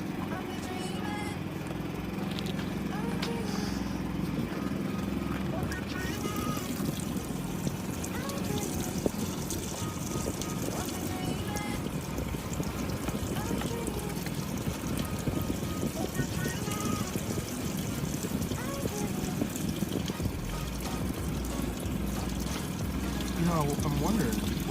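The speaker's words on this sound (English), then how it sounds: "We're going to add a little bit more water because it should be kind of floating in there." Water is poured steadily into a Costway 23103-CYWH RV washing machine, a continuous trickling pour running throughout at even loudness while people talk over it.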